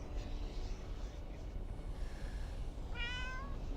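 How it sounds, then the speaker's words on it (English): Maisie, a pet cat, gives a single clear meow near the end, rising out of a steady low background rumble. "There she is. There's the other kitty cat."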